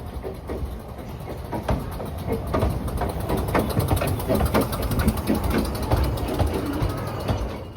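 A heritage steam locomotive on a Welsh mountain railway runs steadily nearby, with a continuous mechanical rumble and a rhythmic chuffing, clanking texture carrying through the whole stretch.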